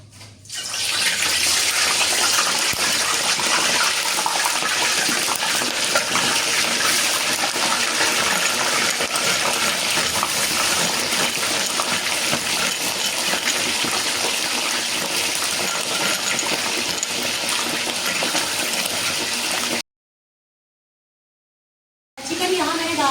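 Chicken pieces for crispy pakora fry in hot oil in a pan, giving a loud, continuous hiss and sizzle that holds steady for about twenty seconds before cutting off abruptly, then briefly resuming.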